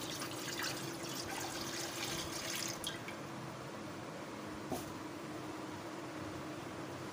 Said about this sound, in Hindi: पानी शामिल करेंगे